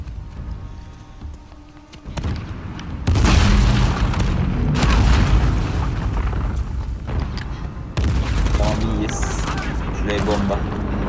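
Bomb blast in Uncharted: The Lost Legacy, heavy booming explosions that kick in suddenly around three seconds and again near eight, loud and sustained with crackling debris and someone speaking.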